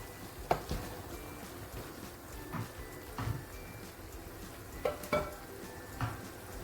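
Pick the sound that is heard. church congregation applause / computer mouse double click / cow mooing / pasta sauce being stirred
pasta sauce being stirred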